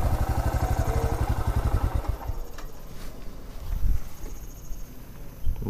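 A rented motorbike putters in a fast, even idle, close by, while it is parked on a narrow road at Wei Sawdong falls near Cherrapunji. After about two seconds the engine cuts out, leaving faint outdoor ambience and a few soft knocks.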